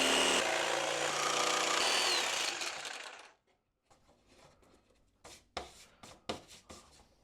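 A big jigsaw cuts a wooden Halloween silhouette with a loud, steady buzzing rasp for about three seconds, then falls silent, leaving scattered light clicks and knocks.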